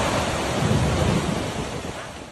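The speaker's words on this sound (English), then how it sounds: "enormous waves smashed into the piers, seawater spilling over the concrete surface" Typhoon-driven waves crash against concrete piers as storm wind roars, a loud, continuous rumbling wash of water and wind that swells slightly early then eases.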